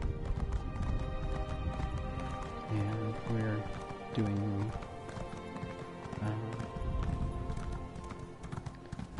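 Rhythmic hooves clip-clop over a busy game soundtrack with music, as a voice talks over the top.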